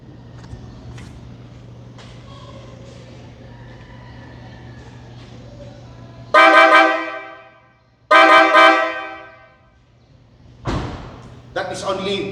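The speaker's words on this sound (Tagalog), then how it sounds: "And for the horn, I installed Mitsuba Dulce 3. So far, that's the best horn for me." A Mitsuba Dulce 3 horn fitted to a family van sounds two loud, harmonically rich blasts of about a second and a half each, then a shorter toot, against low background hum and a few thumps.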